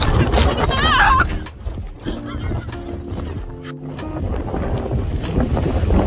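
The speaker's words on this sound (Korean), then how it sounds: "바람이 옆 방향으로 와요." Strong wind buffets the microphone during a rain-lashed storm on Jeju Island, a loud, continuous low rumble with gusty surges across the whole stretch, with brief voice-like tones near the start.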